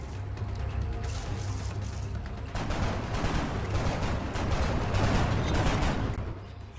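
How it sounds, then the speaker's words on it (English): Sustained suppressing gunfire from XCOM: Enemy Unknown rattles steadily throughout, a dense continuous burst that swells slightly louder in the second half, with no talking. "Knight decides that rather than try to do a little bit of damage, she's going to lay down suppressing fire in the hopes of keeping everyone alive"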